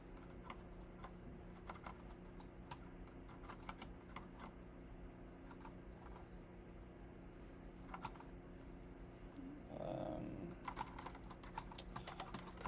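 Rapid, irregular clicking of fingers typing on a new computer keyboard, fairly close and quiet, with a faint fan hum underneath and a short muffled bump partway through.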